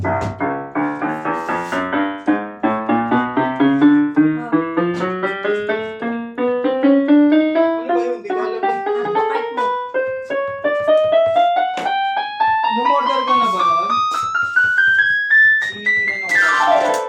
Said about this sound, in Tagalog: Ito po yung tunog ng may sustain.